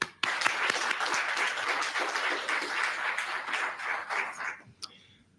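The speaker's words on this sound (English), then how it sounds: "let's give our learners a round of applause" Audience applause for learners at a National Senior Certificate matric results announcement, dense clapping sustained steadily for about five seconds before tapering off.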